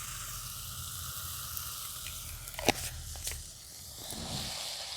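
Spices frying with salt in a kadai for a moong dal and pointed gourd dish, a soft steady sizzle with a couple of sharp clinks and scrapes of a spoon against the metal, close by.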